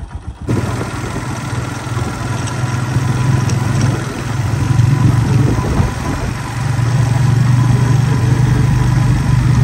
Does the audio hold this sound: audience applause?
no